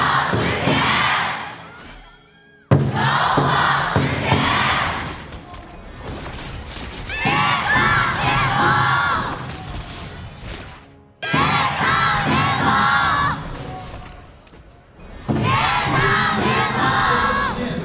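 A packed esports arena crowd at the KPL mobile game grand finals cheers and roars in loud sustained waves, with brief quiet gaps between bursts of yelling.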